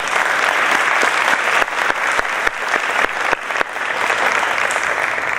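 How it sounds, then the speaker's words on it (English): Audience applause at a conference keynote opening at Broward College North Campus, a full room clapping steadily and loudly for the whole stretch with brief dips in intensity. "please help join me in giving a round of applause and a gracious thank you to Dr. Proctor"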